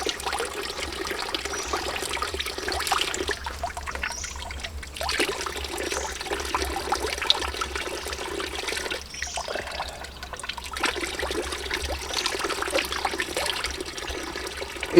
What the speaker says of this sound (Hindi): उस पहाड़ से ये पानी निकल के यहाँ आ रहा है